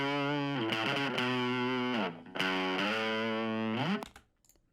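Harmonized distorted electric guitar leads, mixed down to a single mono track, play sustained layered notes in two long phrases with a brief break between them, loud and close, then cut off sharply.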